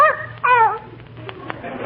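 A small dog gives a few high, yelping barks and whimpers in quick succession near the start, followed by fainter clicks and soft noises under a low steady hum.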